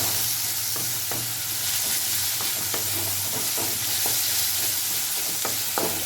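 Bitter gourd frying in oil for a gravy, a steady broad sizzle running throughout with a few sharp stirring clicks, close and alone with no talk.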